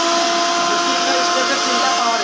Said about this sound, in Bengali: কোনো মশলা নেই, এটা শুধু আপনার মোটরের সাউন্ড,